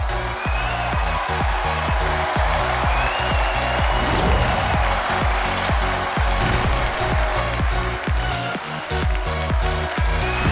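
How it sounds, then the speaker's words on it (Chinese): A TV studio audience on a Chinese relationship show claps to welcome three couples onto the stage, a dense, sustained roar of applause that stays loud throughout with no voices above it. "让我们一起掌声欢迎我们今天的三组情侣嘉宾"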